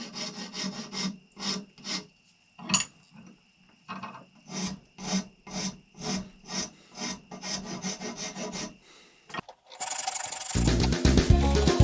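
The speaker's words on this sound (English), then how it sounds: "your 4-in-1 rasp like you used in the other parts of the video. And I'm first just going to go around, get rid of all the saw marks." A 4-in-1 rasp files a cow horn for a simple powder horn, clearing saw marks in a steady series of rhythmic rasping strokes, close and fairly loud, with a brief harsher scraping burst near the end.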